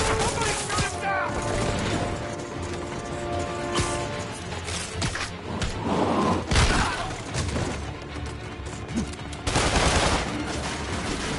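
Dense gunfire from Marvel's Spider-Man game combat, sustained volleys and bursts loud throughout with shattering crashes mixed in and occasional shouted voices over the chaos.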